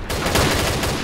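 Rapid, dense gunfire from the video game Combat Arms crackles loudly in a quick burst of overlapping shots, with no one talking.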